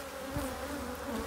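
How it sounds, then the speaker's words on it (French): Agitated honeybees buzzing at an opened beehive, a steady close drone with a few louder passes near the microphone, no talking. "Donc là on voit que les abeilles elles aiment pas trop parce que on vient trifouiller leur maison."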